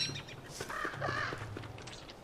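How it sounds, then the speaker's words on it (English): Crow and robin calls from the video game Don't Starve, a few short harsh caws and chirps trading back and forth over a low steady game ambience, moderately close and fairly quiet. "That crow and that robin are like talking to each other."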